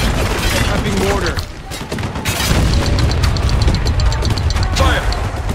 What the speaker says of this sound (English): Prepping mortar. Fire!